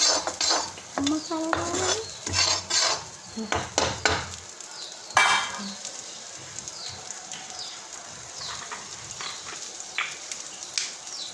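A metal spatula clanks and scrapes rhythmically against a pan as fried rice is stirred over a low flame, with a faint sizzle underneath and a voice talking intermittently.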